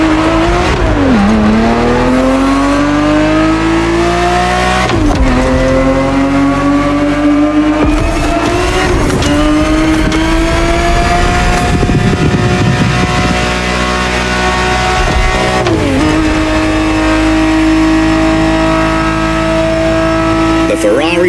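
A Ferrari 365 GTB4 engine in The Crew Motorfest video game revs loud and close, climbing through several gear shifts with a sharp dip at each change, no talking.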